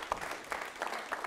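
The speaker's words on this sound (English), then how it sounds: "Let's give a round of applause to our 3 tied winners." Audience clapping at an improv comedy show, a short burst of dense applause from a crowd close by, without voices.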